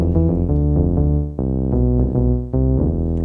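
Synth bass patch from a DRC synthesizer, voiced for a well-known song, plays a rhythmic run of punchy, harmonically rich notes with clear attacks and short decays, loud and up front with no voices.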